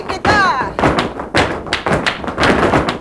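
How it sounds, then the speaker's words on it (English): Emphatic whole-foot stamps on a floor in a Kathak and flamenco fusion dance, sounding as a run of loud, close thuds in quick irregular rhythm, with a brief tonal squeak early on. "The whole foot stamping on the floor is very emphatic."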